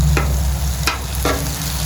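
Food sizzles steadily on a new Aldi griddle, a constant close hiss and crackle broken by a few brief scraping stirs or flips of the turner.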